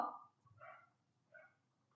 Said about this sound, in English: I'm really sorry about the dogs barking out.